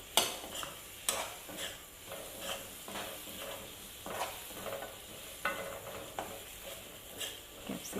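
Chopped capsicum for a chicken curry is stir-fried on high heat, and the spatula scrapes the pan in a regular rhythm over a faint, quiet sizzle.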